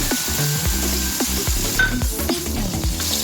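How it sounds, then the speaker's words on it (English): Sliced sausage sizzles loudly and steadily in a frying pan, with quick scraping stirs cutting through the constant crackle. "add sliced sausage, stir"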